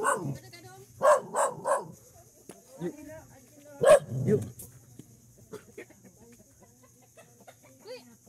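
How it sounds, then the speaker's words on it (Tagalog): A dog barks sharply several times in short bursts, with chickens clucking nearby and a voice speaking in between. "Galit ang kanyang aso."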